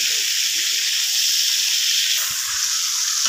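Salt, turmeric and cumin frying in hot ghee give off a steady, close sizzling hiss that runs unbroken, with a few faint low knocks from the pan partway through.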